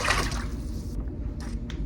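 Water pours steadily into a cooking pot while making crunchwraps, a broad splashing fill in the first second that settles into a low churning gurgle, with a couple of brief bright splashes near the end.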